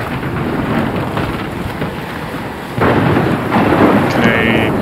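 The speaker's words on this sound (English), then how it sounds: "I've never seen a storm like this in Oregon." A heavy storm in Life Is Strange, set in Oregon: a steady roar of rain and wind with deep rolling thunder that swells louder partway through, close and enveloping.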